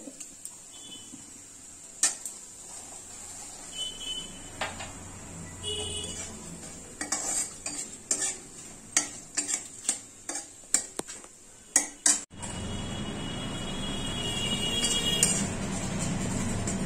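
Cabbage curry with asafoetida being stirred in a pan, a series of irregular clicks and scrapes of a spoon against metal, then a louder, steady sizzle swelling in toward the end.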